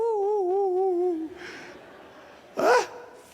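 A preacher in a church imitates a small dog with his voice, giving a long wavering whine and then a short sharp yap, close and loud over a faint room background.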